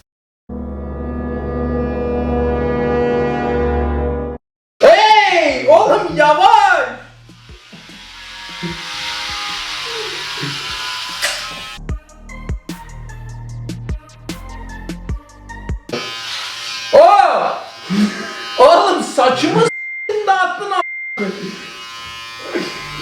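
An electric hair clipper buzzes loudly and steadily while shaving a head at home, then cuts in and out in shorter bursts as several people talk and exclaim over it.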